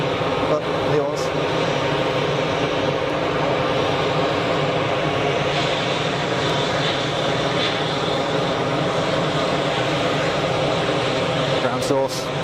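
A Finnair Embraer jet airliner lines up for departure at Geneva Airport, its engines producing a steady, loud, broadband roar that continues unbroken with a voice talking underneath.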